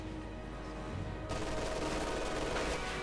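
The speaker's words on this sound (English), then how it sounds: "MG-42 opening up" An MG-42 machine gun opens up in Company of Heroes 2, a sudden dense burst of rapid fire starting partway in and continuing loud over background battle noise.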